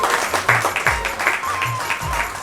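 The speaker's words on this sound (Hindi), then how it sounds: "एक बार जोरदार तालियों से उमेश का स्वागत करें।" Guests clap to welcome the groom at a Hindu wedding, a brief patter of applause mixed with crowd noise and a nearby voice.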